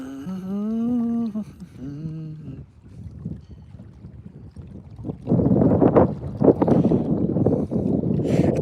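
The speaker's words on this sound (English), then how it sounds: "It's definitely gotten to be a little chillier now that the wind's picked up again." Wind blows outdoors during trout fishing in Oregon, rumbling and buffeting the microphone in gusty bursts through the second half after a few quieter tonal sounds.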